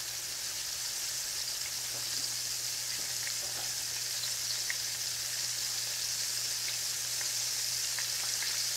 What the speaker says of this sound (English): I'm gonna turn them so that every part of them are fried